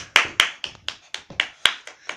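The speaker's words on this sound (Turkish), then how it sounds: "Alkışlıyoruz." A few claps ring out in a TV studio as a guest cook is welcomed, sounding as sharp, separate, fairly close hand claps in an uneven rhythm, about nine in two seconds.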